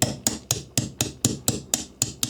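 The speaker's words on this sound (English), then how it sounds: "I'm going to use a brass punch" Brass punch struck with a hammer to drive a pin out of a 1911 .22 LR magazine safety, ten sharp metallic taps in an even quick rhythm, close and alone.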